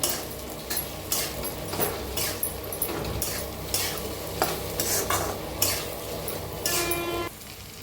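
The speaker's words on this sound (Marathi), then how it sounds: "भाजून घेतलेली भेंडी चवीप्रमाणे मीठ थोडीशी हळद आता मिक्स करून घेऊया" A spatula scrapes and stirs through okra in a pan over a steady sizzle of frying, with rhythmic metallic clinks and no talking.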